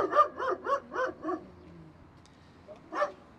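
A security dog locked inside a vehicle barks five times in a quick steady rhythm, slightly muffled, then goes quiet before one more bark.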